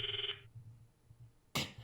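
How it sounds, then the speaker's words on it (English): A phone rings when calling Mayuri in the game Steins;Gate: a brief electronic ring burst at the start, then a quiet pause before a second bright burst near the end. "I stop the video and call Mayuri's phone from my address book."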